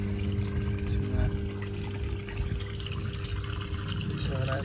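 Koi pond water drains out through a ball valve with a continuous trickling, pouring rush under a low steady hum, close by and moderately loud, with a voice faintly present.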